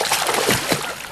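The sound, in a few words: kids splashing around in water at a park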